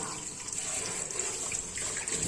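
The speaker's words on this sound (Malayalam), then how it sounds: "ഇനി നമുക്കൊന്ന് സിങ്ക് ഒന്ന് ക്ലീൻ ചെയ്യാം" Tap water runs steadily into a kitchen sink as it is being cleaned, a continuous close splashing hiss with no pauses.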